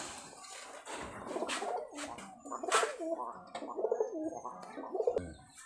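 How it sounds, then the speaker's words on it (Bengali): Rajshahi Giribaj high-flyer pigeons, a white pair among them, coo in soft repeated throaty rolls and gurgles close by, layered with a few chirps and faint shuffling. "এই আর এক জোড়া শ্বেত কবুতর দেখাচ্ছে আপনাদেরকে।"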